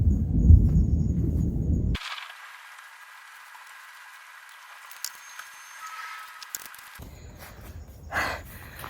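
Deep, rolling thunder rumbles at the start, fades to a quiet hiss for several seconds, then a low roll of thunder returns near the end.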